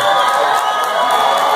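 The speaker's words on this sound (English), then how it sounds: "Give him a round of applause" Crowd cheering and whooping at an XFN mixed martial arts event right after a fight, a dense, loud, continuous roar of voices with shouts rising above it and little visible clapping.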